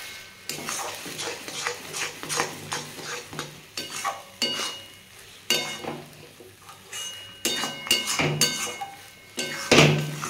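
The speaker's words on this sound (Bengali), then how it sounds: "আমি আরও একটু ভাজবো" Moringa leaves fry and sizzle in a pan on a gas flame, with repeated scraping stirs and light utensil clinks against the metal pan, loud and close, with no talking.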